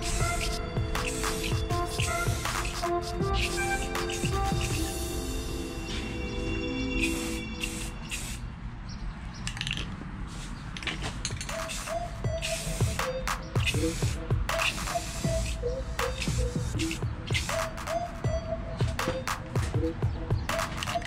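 Rust-Oleum gloss leather brown spray paint is sprayed onto a fender in a continuous loud hiss that runs in long bursts with brief breaks, close to the can.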